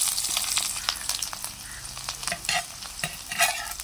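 Small onions with green chillies fry in hot oil, a close, steady sizzle mixed with repeated scraping stirs of a spoon in the pan.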